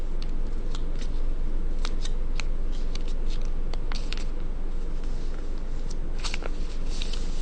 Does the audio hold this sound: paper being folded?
yes